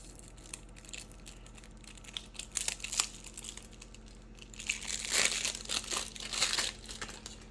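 Plastic packaging trash from Magic: The Gathering Brothers' War Commander decks crinkles and crunches close by in irregular bursts, growing louder and busier toward the end, with no talking.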